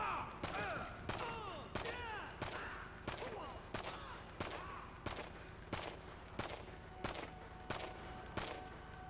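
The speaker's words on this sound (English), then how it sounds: "The gun sounds so cool." Gunfire from a weapon in Grand Theft Auto V, a long run of evenly spaced loud bursts with ringing echoes, repeating throughout at a steady rhythm.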